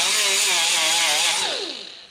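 A power grinder buffs burrs off the metal fender of a 240SX car, a loud high whine with harsh grinding texture that winds down as the tool spins to a stop.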